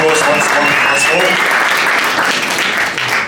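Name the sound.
round of applause at a boxing press conference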